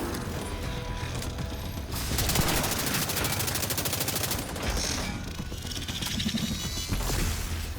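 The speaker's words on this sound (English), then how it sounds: "Listen to this one of what the old Warhound death explosion sounded like." The old Warhound robot dog death explosion in The Division 2: a dense, chaotic barrage of rapid crackling blasts and mechanical clatter rattles on loudly and continuously, like a drawn-out synthetic explosion.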